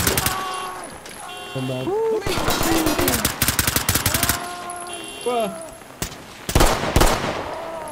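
Rapid bursts of automatic gunfire in the tactical police shooter Ready or Not, loud and close in several volleys, alongside a chiming in-game tone, with players talking over the shooting.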